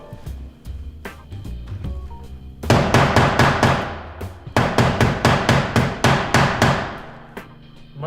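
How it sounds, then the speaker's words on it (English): A chisel is tapped into the groove of a wooden window sash's glazing bead. It makes a run of sharp, close, loud hammer blows, slow and spaced at first, then quick bursts of rapid strikes. "You're slipping in the edge of the chisel."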